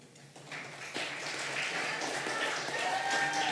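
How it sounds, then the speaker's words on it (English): Crowd cheering and clapping at a university undergraduate honors and awards celebration, a steady broad wash of applause with whoops rising after the first second and holding to the end. "Zachary Askins, we got a cheering group here, all right"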